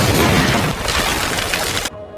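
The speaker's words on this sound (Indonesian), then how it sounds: "Goodman menembak jerigen minyak yang dibawa oleh Chambers hingga membuatnya meledak" A fuel jerry can blows up after being shot in a zombie action film, a dense, loud blast of broadband noise that roars on for nearly two seconds before cutting abruptly to near silence.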